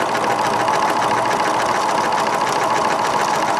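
A sewing machine stitches a zigzag applique around a fused fabric shape, running in a steady, fast mechanical whir with rhythmic needle clatter, close and loud with no pauses.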